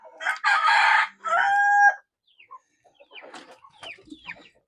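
A rooster crows loudly and close among Black Australorp and Plymouth Barred Rock chickens in a backyard farm, two long calls followed by softer chirps and clucks.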